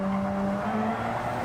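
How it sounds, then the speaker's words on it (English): Race car engines at Watkins Glen in Gran Turismo 7, a loud, steady tonal drone of several cars at once, one engine note dropping slightly in pitch midway as they run close together. "letting you hear those cars' engines sing the song of their people."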